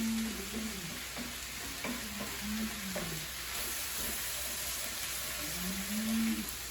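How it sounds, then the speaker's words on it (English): Diced ratatouille vegetables being stirred in a hot pan, a steady sizzle with soft scraping, and a low tonal hum drifting underneath. "And stir that through, get it up to temp."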